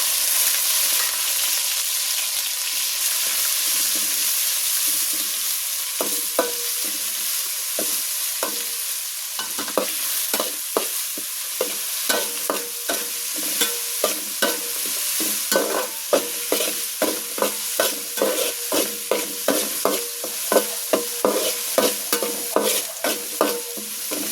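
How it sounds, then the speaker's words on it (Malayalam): Ginger and garlic sizzle steadily in a hot pan while a spoon scrapes and stirs in a quick, repeated rhythm. "നമ്മൾ ഇച്ചിരി മുളക് പൊടി ഇട്ട് മൂപ്പിക്കുവാണേ"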